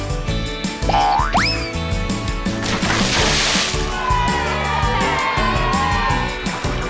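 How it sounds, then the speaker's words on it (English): Cartoon pigs jump into a pool, making a springy boing followed by a splashy, sloshing water burst, with playful cartoon sound effects and cheerful background voices around it. "Peppa jumped into the water on this side, and George on the other side did the same."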